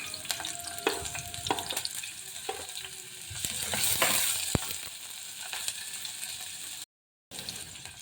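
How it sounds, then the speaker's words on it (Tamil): Cinnamon, cloves, bay leaf and cardamom fry in oil inside a pressure cooker, a continuous close crackling sizzle broken by sharp clinks and scrapes of a stirring spoon, with no voices. "இதில் பட்டை, கிராம்பு, பிரியாணி இலை, இதெல்லாம் ஒரு ஏலக்காய் இதெல்லாம் போட்டுக்கோங்க. கொஞ்சம் சோம்பு வேணும்னாலும் போட்டுக்கலாம். இதெல்லாம் நல்லா பொரியணும்."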